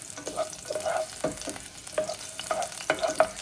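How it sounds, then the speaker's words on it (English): Chopped onion and chorizo fry in a pan until golden, a soft sizzle beneath repeated scraping strokes of a utensil stirring at an uneven rhythm, close by and without speech. "Fry it until it's a little bit golden."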